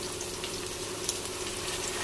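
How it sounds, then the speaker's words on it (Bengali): Mixed vegetables with capsicum and peas fry lightly in a pan, giving a soft, even, continuous sizzle with faint crackles, quiet and close with no talking. "হালকা করে সব সবজি ভেজে নেব"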